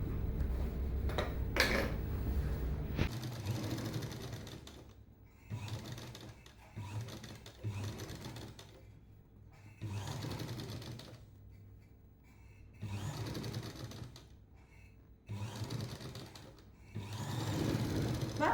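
A sewing machine stitches the lining of an aari-work blouse, its motor running in several bursts of steady whirring separated by short pauses, fairly close and loud with no talk.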